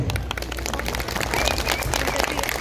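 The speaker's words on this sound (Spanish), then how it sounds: "Si les está gustando mi cotorreo, mejor regáleme fuerte el aplauso, por favor." An audience claps at a clown show, a steady patter of many hands close by, mixed with a bit of crowd noise and talk.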